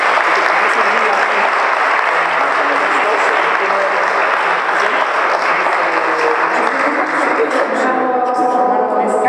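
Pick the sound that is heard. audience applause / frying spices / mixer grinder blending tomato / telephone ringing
audience applause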